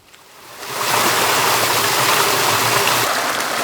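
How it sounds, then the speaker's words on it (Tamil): Water gushes from a farm pump set outlet. The rush swells within a second into a loud, steady flow, heard up close with no talking. "தண்ணி அப்படியே ஜிலு ஜிலுன்னு வருதுங்க."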